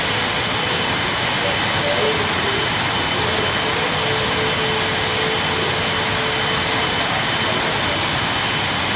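Airplane engine in the Real Flight Simulator mobile game: a steady, loud jet-like roar and whine that runs unchanged the whole time, with a faint thin tonal hum layered on top.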